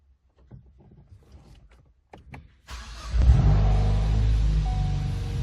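A Ford EcoBoost engine cranks on its own during an injector flow test: a few faint clicks and ticks, then a sudden loud, sustained engine rumble that carries on steadily to the end.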